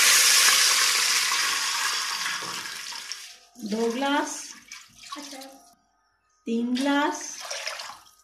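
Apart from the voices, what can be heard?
water poured into hot oil with cumin, sizzling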